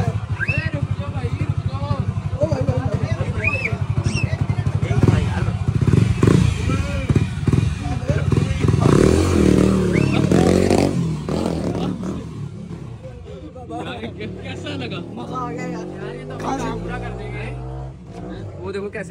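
A black Royal Enfield Bullet motorcycle with a green tank, freshly restored, idles and revs nearby with a deep thumping engine note and clatter, while people talk over it throughout.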